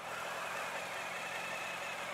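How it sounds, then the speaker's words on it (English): A 2018 Suzuki V-Strom 1000XT motorcycle engine runs steadily, its exhaust giving a continuous, even drone at moderate volume with no talking. "It's got a nice bassy exhaust note. Not too loud."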